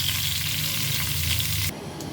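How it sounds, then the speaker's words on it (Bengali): Pointed gourd pieces fry in oil without salt or turmeric, giving a dense, loud, continuous sizzle that drops suddenly to a softer crackle near the end. "তো পটলগুলো আমি বিনা লবণ আর হলুদে ভেজে নেব।"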